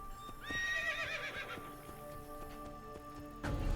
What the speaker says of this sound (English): Oh no, my horse is still here.